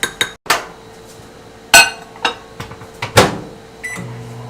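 Kitchen sounds from microwaving butter and garlic: sharp clicks, a door clunk and clinks of a dish, ending in a steady beeping tone, close and loud without speech.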